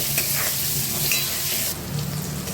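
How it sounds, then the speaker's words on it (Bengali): Potatoes with salt and turmeric fry in hot oil in a pan, a loud continuous sizzle with stirring scrapes, close and alone without talk. "দিয়ে দেবো নুন, দিয়ে দেবো হলুদ, এর মধ্যে ছেড়ে দেবো আলুগুলো, একটু লাল করে ভেজে নেব।"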